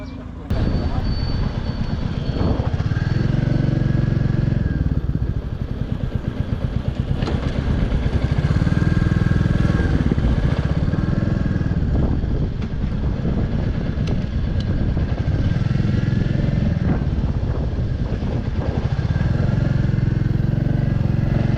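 A Royal Enfield motorcycle engine, one that runs hot, rumbles continuously with a deep, loud, rhythmic idle and revving throb, near and steady for the whole stretch.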